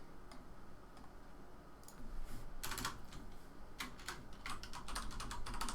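Computer keyboard typing at a desk during board game design brainstorming, a faint ticking scatter of keystrokes at first, then quicker close bursts of clicking over a low room hum.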